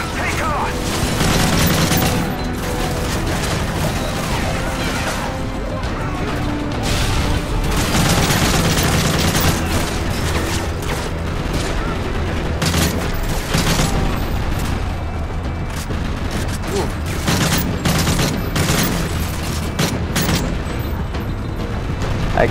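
Gunfire and explosions from Modern Warfare 3 rattle on continuously, loud bursts and booms layered with mechanical clatter while characters talk over the firefight.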